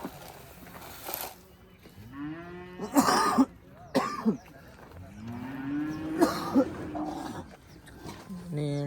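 An HF dairy cow, a first-calver of ABS breeding, lets out two long, loud, deep moos close by, each swelling then fading, with other farm noise between them.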